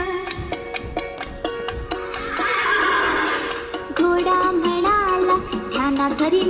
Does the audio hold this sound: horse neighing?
yes